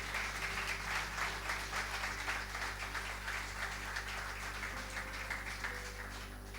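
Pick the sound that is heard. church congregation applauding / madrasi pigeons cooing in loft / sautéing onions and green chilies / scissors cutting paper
church congregation applauding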